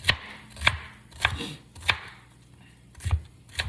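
Knife chopping green pepper into smaller pieces on a cutting board: about seven crisp, separate close knocks at an uneven, unhurried pace, alone with no talk.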